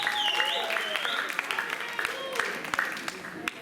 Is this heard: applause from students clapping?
yes